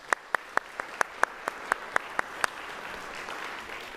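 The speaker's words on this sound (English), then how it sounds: "Let's give them a round of applause." A church congregation applauds, with one nearby person clapping in a loud, steady rhythm of about a dozen sharp claps over softer applause from the room, which carries on after the close clapping stops.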